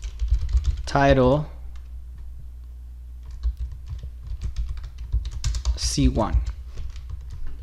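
Rapid clicking of keys on a computer keyboard while commands are entered in MATLAB, close and steady bursts of keystrokes, with someone talking briefly twice over the typing.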